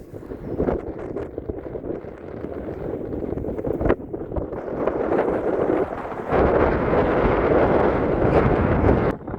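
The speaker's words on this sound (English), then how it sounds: "It's a bit more windy up here." Wind blows hard across a microphone on the coast at Robin Hood's Bay, Yorkshire, a continuous low rumbling roar with buffeting gusts that swell stronger toward the end.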